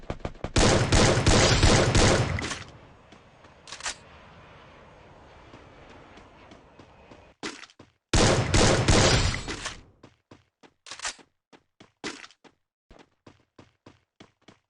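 Firefight in the mobile battle game Free Fire: a long, loud burst of rapid automatic fire, a quieter stretch of rumble, then another heavy burst trailing off into scattered single shots spaced apart.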